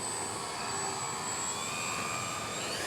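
Dynam BF-110 1500mm RC model warplane flying overhead, a faint steady whine of electric motors with slowly drifting pitch as it passes at a distance.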